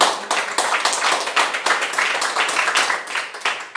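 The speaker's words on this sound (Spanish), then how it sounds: "Dar un aplauso fuerte al Señor" A church congregation claps hard and fast, the many hands close and loud in uneven bursts that keep going without pause.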